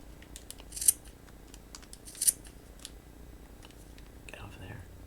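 Scissors trim paper for a journal envelope topper, two crisp snips standing out over a quiet background, with faint rustling and soft voice sounds near the end.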